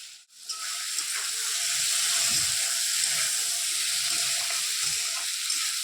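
Potatoes and spices stir-fried together in a pan give a continuous loud hiss and sizzle after a brief quiet start, with faint soft knocks of stirring beneath.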